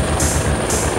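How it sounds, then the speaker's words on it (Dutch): A helicopter lifts off from beside a church tower in Garyp, its rotor and engine a loud, dense roar very close, with a pulsing high whine, over just a second. "stijgt de helikopter op voor het gevaarlijkste deel van de operatie"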